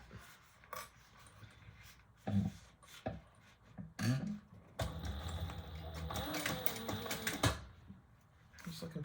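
Sewing machine top stitching a purple leather waist pack at stitch length 4, running in a steady mechanical whir from about five to seven and a half seconds, with scattered handling knocks before it and talk around it.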